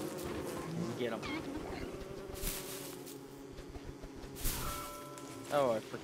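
Buzzing bees swarm in the game Don't Starve Together, a steady droning hum that runs throughout at moderate level, mixed with game sounds and brief voice-like tones.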